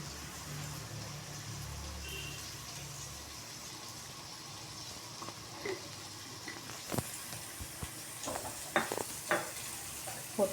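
Fried rice with red chilli sauce is stir-fried in a pan, giving a soft steady sizzle, then clattering utensil scrapes and knocks grow louder toward the end.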